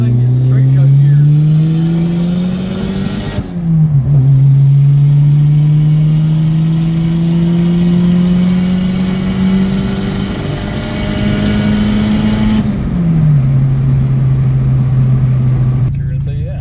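A turbocharged car engine drones loudly and steadily with rising and falling pitch as the throttle is worked, a sharp drop around the middle and again near the end, while people talk over it.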